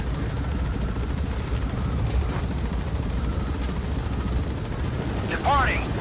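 Helicopter taking off in the Metal Gear Solid V video game: a steady rotor and engine roar that holds throughout, with brief chirping game effects near the end.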